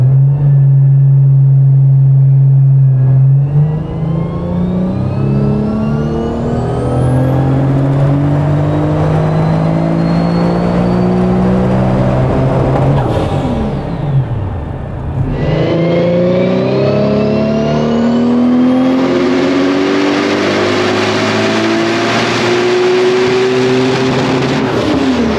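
An 800 hp car engine on a dynamometer rev test, climbing through repeated full-throttle sweeps with rising and falling harmonic whine, loud and continuous, a brief drop near the middle before pulling hard again.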